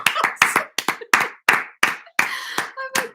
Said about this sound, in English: Can you clap, please?